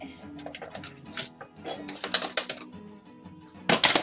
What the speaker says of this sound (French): vous scotchez